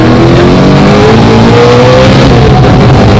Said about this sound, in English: Yep, sounds like an F1 car.